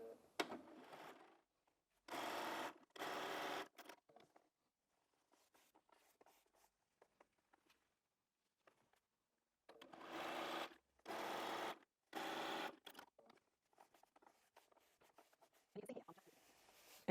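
A sewing machine stitches quilt-as-you-go bag panels in several loud, close bursts of rapid, even needle chatter, separated by quiet stretches with faint handling noises.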